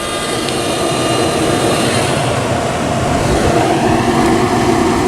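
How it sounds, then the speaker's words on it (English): A Rec Tec Bullseye pellet smoker with a PID controller, burning pecan, runs its auger and fan, giving a loud, close, steady whooshing hum that stays constant throughout without speech. "Auger kicked in, fan kicked in."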